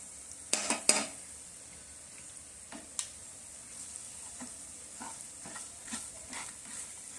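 Raw mango and jaggery cook together in a pan while a spoon stirs, giving soft, low bubbling and sizzling broken by sharp utensil clinks against the pan, loudest near the start.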